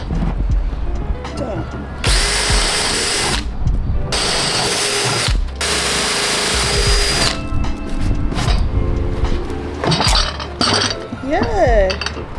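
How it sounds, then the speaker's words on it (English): A power drill bores holes into planters in three long, loud bursts of whirring, with clinks and handling noise between them and a voice talking near the end. "Drill some holes in these planters."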